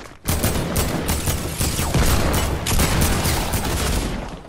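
Rapid bursts of gunfire from a gun in the video game Fortnite, a dense, loud barrage of repeated shots running almost continuously with a few sharp peaks.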